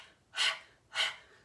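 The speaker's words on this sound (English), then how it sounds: "big guttural exhale, fast, sharp" Two fast, sharp exhales of pranayama breathwork, forceful and guttural, each a close burst of breath separated by a short pause.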